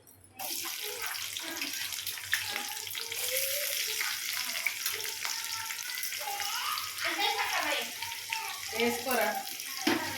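Chopped onions and mustard seeds sizzle in hot oil in a home kitchen pan, a steady close crackling hiss that runs the whole time with occasional stirring scrapes and a few pops.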